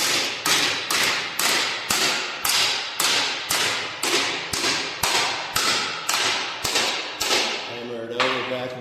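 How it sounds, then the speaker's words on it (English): Hammer blows on metal as a truck cab corner mount bracket is bent to 90 degrees in a vise, about fourteen sharp, evenly spaced strikes with ringing tails, close and loud, with no talk. "hammer it over back and forth, work it a little at a time"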